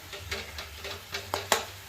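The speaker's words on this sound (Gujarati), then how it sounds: "આવી રીતે વઘાર્યા પછી ભાજી હલાવી લેવું આવી રીતે" A spoon stirring tempered fenugreek greens in a pan: about eight rhythmic scraping strokes that grow sharper and louder toward the end, with a faint sizzle beneath and no talk.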